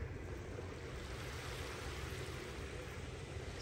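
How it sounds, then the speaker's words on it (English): Small waves lap steadily on a calm beach in North Naples, Florida, a soft continuous wash with no voices. "I just hear some little waves lapping."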